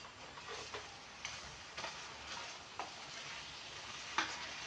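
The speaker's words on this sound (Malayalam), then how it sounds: "നന്നായി ഇളക്കി കൊടുക്കണം." Grated coconut being stirred with jaggery in a pan on low flame, giving soft, steady scraping and faint sizzling with a few sharper clicks of the spoon against the pan, fairly quiet throughout.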